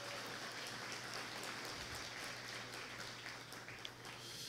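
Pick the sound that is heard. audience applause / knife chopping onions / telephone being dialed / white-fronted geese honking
audience applause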